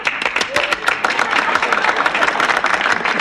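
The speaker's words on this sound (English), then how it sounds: "Let's applaud." A studio audience at a sitcom taping claps in a dense, steady burst of applause lasting a few seconds, loud and close with no pauses.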